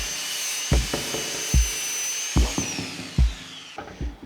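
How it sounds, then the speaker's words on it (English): A power drill bores into a homemade overhead camera rig in several short bursts, with a high whine running underneath and close, loud thuds as the bit catches and stops. "what we're gonna do is we're gonna drill straight into this, just one straight across"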